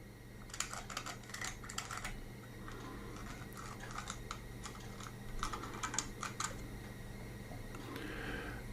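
A pencil is drawn inside the eye of an axe head, marking where the wooden handle sits, giving bursts of quick dry scratchy ticks in close, quiet surroundings with a low steady hum beneath.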